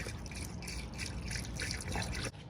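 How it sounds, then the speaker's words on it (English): Coolant pours into the cooling system of a 2013 Honda Civic in a steady liquid stream, with glugging and dripping, close and fairly loud, continuous until it stops abruptly near the end. "So now I'm just gonna go ahead and fill it up with coolant and then bleed the system."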